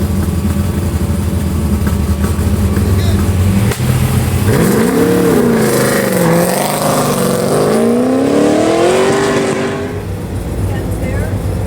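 1992 Camaro with a 418 cubic inch LS V8 at an autocross event: a loud engine idles, then revs hard through rising and falling pulls as it launches and runs, with an announcer talking over it.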